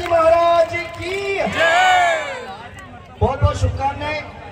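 At a Tejaji Maharaj festival fair and lucky-draw stage program, a crowd roars back in reply to the chant, long sustained shouting from many voices, then a second burst of cheering after a brief dip, with a voice over the top.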